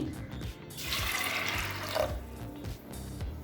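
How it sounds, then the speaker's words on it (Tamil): Water being poured into a pot of green moong dal sambar, a steady, moderately quiet rushing stream with a gurgling fill, starting after a short pause and continuing to the end. "தேவையான அளவு தண்ணி"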